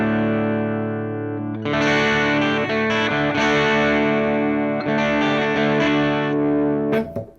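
Ibanez JEM Jr electric guitar through overdrive, tone knob turned down, playing sustained distorted chords and notes with a few pauses, loud and close with no talking.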